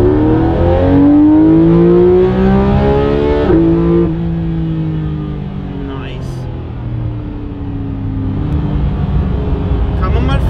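A Porsche GT3 RS fitted with an Akrapovic exhaust revs hard, its loud engine note climbing and then falling away before picking up again, heard close with people talking over it.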